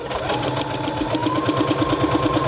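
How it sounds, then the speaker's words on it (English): A sewing machine stitches a dress neckline seam in a steady, fast mechanical rattle of even needle strokes, close and continuous with no talk. "I'm gonna sew this first section."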